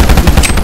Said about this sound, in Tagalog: Lakas ng baril nun ah.